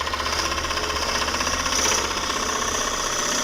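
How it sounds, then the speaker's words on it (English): A gouge cuts an elm burl bowl spinning on a wood lathe, giving a loud, continuous rumbling chatter with a fast, even vibration. "You notice I'm not pushing the gouge through the bowl real fast."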